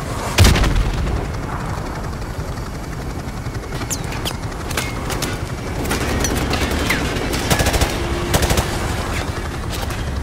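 Gunfire and artillery in Call of Duty: Modern Warfare Remastered, a loud opening blast, then scattered sharp shots and bursts over a steady rumbling engine drone.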